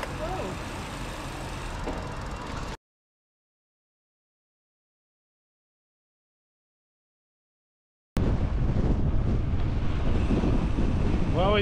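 Strong wind buffets the microphone while cycling, a dense roaring rush that cuts to silence for several seconds and then returns just as loud.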